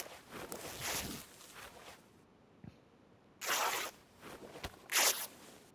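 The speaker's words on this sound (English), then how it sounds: "We'll cut that into rags" Cloth being cut into rags in the video game DayZ: a few rough, bright ripping and tearing strokes in short bursts with brief pauses between them, close and fairly loud, with no talking.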